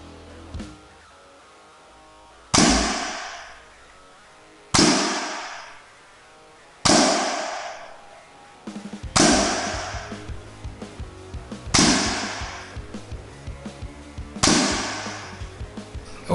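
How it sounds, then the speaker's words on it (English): A NERF Alpha Strike blaster fires six darts at a target, one by one, each a sharp, loud pop spaced a couple of seconds apart, with faint handling clicks between shots. "I'm going to fire from 6 feet back and we will fire 6 darts"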